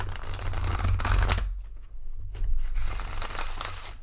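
Close, crisp riffle of thick, gilded tarot cards being shuffled, a dense burst that pauses briefly and then starts again, with no talking.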